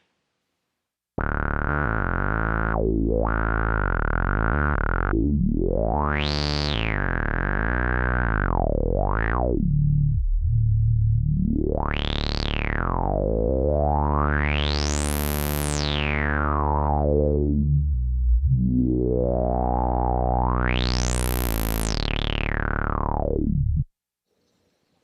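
A single sustained chord on a Sequential Prophet 6 polyphonic synthesizer, its filter cutoff sweeping repeatedly open and closed, swelling bright and buzzy then dulling, loud and alone for about twenty seconds, with no delay or reverb.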